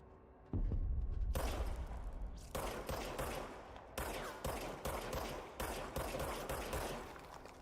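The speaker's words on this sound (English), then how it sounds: "Someone else is shooting at me?" Gunfire in the action game Control, a sudden loud fusillade that starts half a second in and continues as a string of heavy, regularly spaced bursts with no talking over it.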